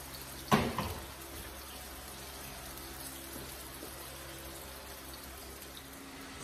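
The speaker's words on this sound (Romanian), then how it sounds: "Dar fierbe așa încet, mai un pic să mai fiarbă" Water with potatoes simmers gently in a pot, a faint, soft bubbling wash that runs steadily, broken by one sharp knock near the start.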